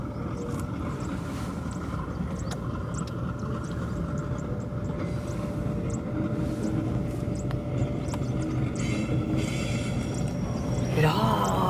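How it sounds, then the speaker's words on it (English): A Sasol diesel train hauling containers rumbles steadily past near Secunda, Mpumalanga, a continuous low roar with a faint whining tone that swells slightly toward the end. "It's a Sasol train, look at that."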